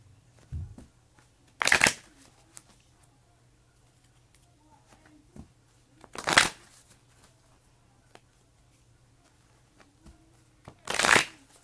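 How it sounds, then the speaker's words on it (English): Three bursts of tarot cards being shuffled, each a quick riffling flutter a few seconds apart, with quiet pauses between and no talking. "Clear it. Get some good shuffles."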